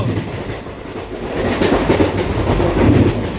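A train rumbles past close by, a steady heavy roar of wheels and rail noise that swells louder toward the end.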